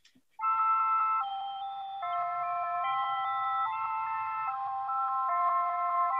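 A flute sample slowed to halftime in an eighth-note loop, EQ'd and run through a fog convolver, plays soft held chords that shift slowly over a faint low rumble, steady and alone with no voices.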